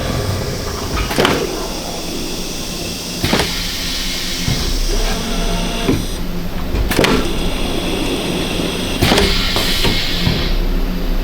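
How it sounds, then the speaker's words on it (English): An 8-color simulated-process screen printing press making a test print produces loud mechanical clunks and knocks every few seconds. These sit over a constant droning machine hum and run close with no speech. "then we'll go ahead and make a test print"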